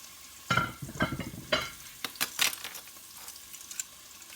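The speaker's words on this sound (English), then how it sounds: "I can hear my pan sizzling" Meat browning in a hot pan gives a crackling sizzle with sharp bursts of spitting and popping, close and moderately loud, with no voices over it.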